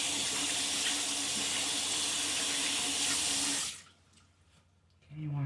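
Tap water pours hard and steadily into a sink while a container is washed out, then cuts off abruptly, leaving faint handling noises and a short sound at the end.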